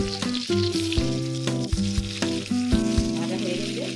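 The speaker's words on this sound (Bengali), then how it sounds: "ভাজা হয়ে গেলে এক পিস ভাজা হয়ে গেলে এরপরে উঠিয়ে দিব" Small fish sizzle and crackle steadily in hot oil in a pan, a continuous frying hiss with occasional stirring, heard close up alongside a tonal musical background and no talk.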